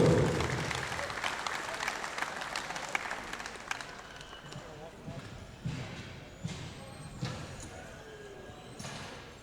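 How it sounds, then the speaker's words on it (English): Applause in an arena at the World Classic Powerlifting Championships, starting strong then thinning out into scattered individual claps and thumps, with a voice speaking over it. "Give them a round of applause."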